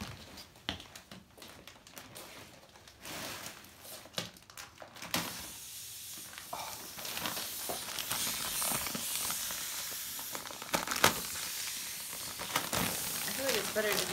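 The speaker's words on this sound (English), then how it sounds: "The inaugural cutting of the mattress." Knife slicing through the plastic wrap of a packaged mattress in a bedroom, giving a broad hissing, crinkling rip that grows louder and steadier partway through, with voices talking over it.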